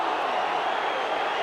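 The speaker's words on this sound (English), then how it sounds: "And great oohs come from the crowd." A rugby league crowd at a Wigan versus Castleford club match in 1993 lets out a loud, sustained ooh, a dense, even roar of many voices that holds steady throughout.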